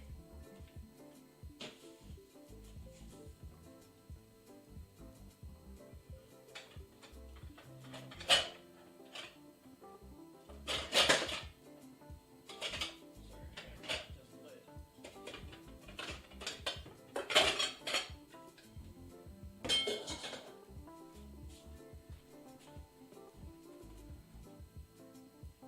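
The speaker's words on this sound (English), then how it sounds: "So I'm just going to put a pot on the stove and I'll be right back." A pot is set down and handled in a home kitchen while gluten-free pasta is prepared for a vegan macaroni salad: scattered metallic clanks and clatters of cookware, a few sharper knocks standing out against a quiet room.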